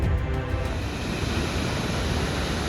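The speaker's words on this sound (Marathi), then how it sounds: "हा आहे महाराष्ट्रातल्या सगळ्यात फेमस वॉटरफॉल पैकी एक असलेला काळू धबधबा" Kalu waterfall in Maharashtra's Sahyadri hills, plunging in five tiers, gives a constant dense roar, loud and unbroken, with no voices.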